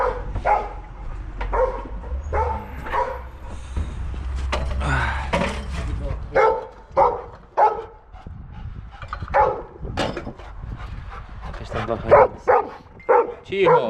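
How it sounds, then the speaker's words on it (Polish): A dog barks in repeated short bursts close by during an outdoor job in a forest, with a mud-and-sludge pumping truck working, while people talk over and between the barks. "Po co tak szczekasz?"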